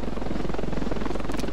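A helicopter in the video game Ravenfield produces a loud, continuous rotor thrum with rapid rhythmic blade chop, steady and close throughout.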